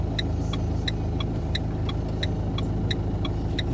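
Car engine hums low and steady as the car pulls away during a driving lesson, with a regular ticking turn signal clicking throughout.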